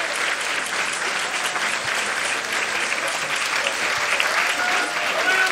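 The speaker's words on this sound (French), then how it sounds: "sous vos applaudissements" Audience applauding steadily and loudly for accordionist Sylvie Pullès as she takes the stage, a dense continuous clatter of clapping throughout with no pauses.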